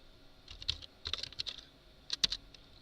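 Computer keyboard typed on while working in RStudio: quiet, close keystrokes in three short clusters separated by brief pauses.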